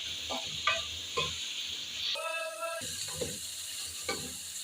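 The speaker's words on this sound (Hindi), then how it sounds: "अब हाई फ्लेम पे हम इसको अच्छे से कर लेते हैं फ्राई।" Vegetable seviyan vermicelli fries on high flame with a soft, steady sizzle, punctuated by several rhythmic stirring scrapes and a brief tonal clatter midway.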